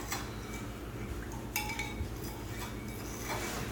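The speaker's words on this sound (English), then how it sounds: "right now I'm just scraping at the bottom to make sure that I don't have anything at the bottom" A utensil scrapes the bottom of a bowl while Borax slime glue is mixed, making soft repeated scratching and faint clinks against a steady low background, close but quiet, with no talking.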